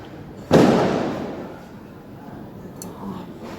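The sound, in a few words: Diwali firecrackers going off outside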